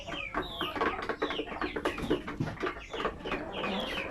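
Native chickens cluck and chatter in a busy flock, overlapping short calls in quick irregular bursts, moderately close with no talking.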